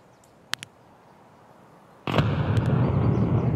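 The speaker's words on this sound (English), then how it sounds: "Nade up there." A grenade goes off in Escape from Tarkov, a sudden loud blast followed by a rumbling roar, preceded by a couple of faint sharp clicks in a quiet woods setting.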